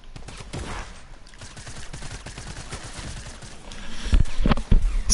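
Drum gun fire in Fortnite, a dense rapid stream of automatic shots that grows louder and heavier toward the end, with no talk over it.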